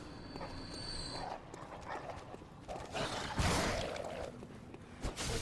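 Dogs in the video game Bloodborne, zippy canine enemies, barking and snarling in bursts amid game effects and hoof-like clatter, fairly close and moderately loud.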